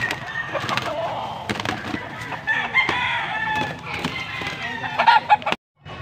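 Gamecock roosters at a cockfighting bird auction in Angeles City, Pampanga, clucking and calling close by in short bursts amid crowd noise, with faint voices in the background.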